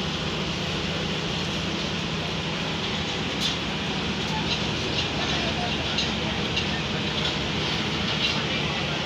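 The Shah Hussain Express passenger train runs with a steady, loud rumble and wheel-on-rail noise, heard from inside the train, with faint clicks and voices mixed into the continuous roar.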